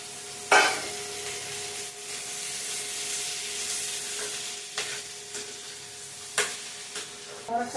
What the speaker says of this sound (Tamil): இந்த சுரைக்காயை இதில் சேர்த்துக்கணும்.